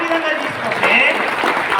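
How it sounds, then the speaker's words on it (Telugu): An audience of about 250 people at a business-plan meeting claps together, a short burst of applause mixed with a voice talking over it. "మీ అందరికి ఒకసారి గట్టి చప్పట్లు"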